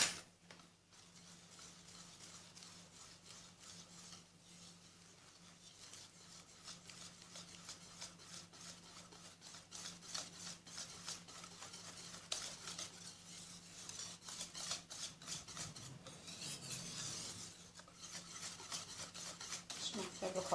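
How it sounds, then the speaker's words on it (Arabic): Batter for homemade pancakes is whisked by hand in a bowl without a blender, a faint, steady scraping and rubbing that continues for a long stretch with soft clicks, quiet and close. "مش محتاجة خلاط ولا حاجة، بالوسط كده على طول تتضرب"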